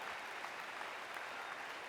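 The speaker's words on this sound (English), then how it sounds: "You're clapping for yourself." An audience breaks into dense, sustained applause, many hands clapping together in a steady wash with no pauses and no voices.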